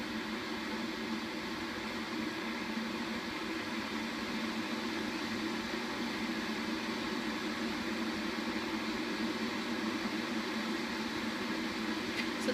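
An Aicok stainless steel cordless electric kettle heats water toward a boil, giving a steady, even hiss and low rumble that holds unchanged throughout, close by with no voices.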